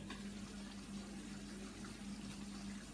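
Chicken curry bubbles and simmers steadily in a pot on the stove, a continuous gentle gurgle with a faint hum underneath, no talking.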